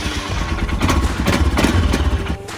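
A Royal Enfield Himalayan 411 motorcycle engine running steadily close by, a loud, lumpy single-cylinder thump with a slight swell in revs partway through.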